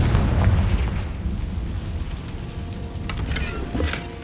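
Confringo fire spell from Hogwarts Legacy detonating in a dense, rumbling blast, a loud low boom rolling on through the clip, with sharper crackling bursts near the end.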